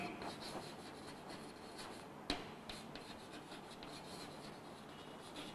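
Writing on a board during a three-dimensional geometry lesson, a faint continuous scratchy rubbing with one sharp tap partway through, very quiet and without speech.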